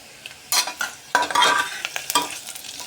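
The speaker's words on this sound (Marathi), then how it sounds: "छान असं तेलामध्येच याला परतवून घेऊया." Bay leaf, cardamom, black pepper and cloves frying in hot oil for masale bhat, a bright sizzle broken by loud scraping stirs and spoon clatter, close and alone.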